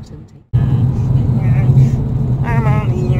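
Steady engine rumble and road noise from a car driving through cold English countryside, continuous and close, with a voice talking over it.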